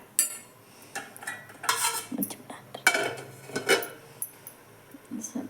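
A spoon scraping and clinking against a pan while stirring tomato chutney in oil, several close metallic scrapes and taps in uneven bursts with quiet gaps.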